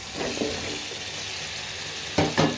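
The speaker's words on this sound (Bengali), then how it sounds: "মশলা কষানো হয়ে গেছে, এখন আমি এখানে আলু বেগুন দিয়ে দেবো" Potatoes and eggplant frying in a cooked spice paste, a low steady sizzle with soft stirring scrapes and two sharper bursts near the end, no voices.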